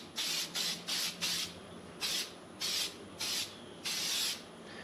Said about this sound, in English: we'll use this tack spray, and all you do is do a slight mist on it